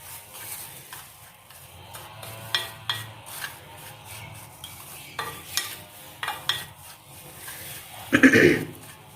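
A utensil scrapes and clinks as fish is stirred with red chilies and chaat masala, soft intermittent mixing strokes over a faint background, ending with a louder burst near the end.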